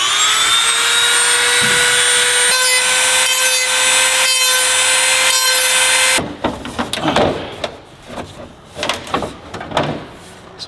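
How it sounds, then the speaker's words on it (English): A Dremel rotary tool whines at a steady high pitch while cutting into a car body kit on an R32 Skyline GTR, then stops and gives way to scraping, rubbing and handling noises. "we are going to Dremel this"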